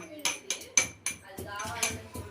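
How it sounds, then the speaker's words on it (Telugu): Fresh ginger and garlic are pounded by hand, with a series of irregular, close thuds and metallic knocks, about one every quarter second, while a voice talks faintly beneath. "ఇక్కడ అల్లం వెల్లుల్లి మేము ఫ్రెష్గా అయితే దంచుకుంటున్నాము"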